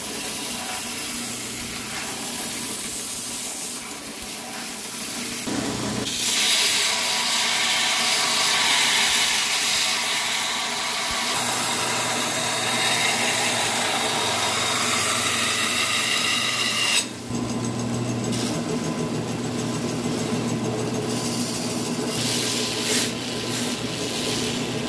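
A belt grinder works a screw Damascus steel chopper blade with a loud, continuous abrasive roar that runs close up for the whole stretch, briefly dipping around two changes in pressure, with no voices.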